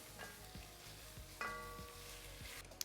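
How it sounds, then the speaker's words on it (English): A tablespoon of flour fries with tomato paste in a pot for pot roast, giving a steady soft sizzle with occasional spoon taps and scrapes of stirring, close and unaccompanied by voices. "Also, I have about a tablespoon of flour. Drop that in. Going to fry that."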